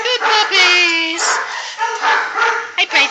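Coonhound puppies yip and whimper in a high, continuous stream, close by, with bursts of bark-like cries.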